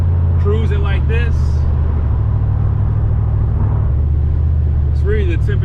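Steady low engine drone of an aftermarket-modified Mustang cruising on a hot day, constant and close, with someone talking over it in short bursts at the start and end.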